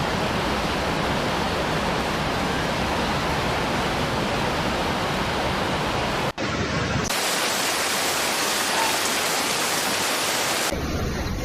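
Heavy rain pouring down during a flood in Beijing, a dense continuous roaring hiss that stays loud and steady, briefly cutting off partway through before resuming.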